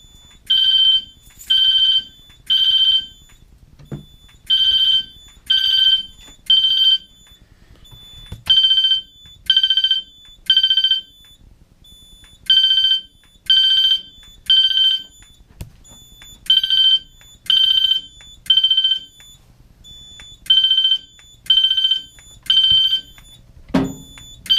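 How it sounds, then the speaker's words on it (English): A fire alarm system set off from a classic conventional pull station sounds repeated loud electronic tone bursts in a steady temporal pattern, three beeps then a pause, cycling over and over with faint low background noise between groups. "we're gonna pull this one first because it's the classic"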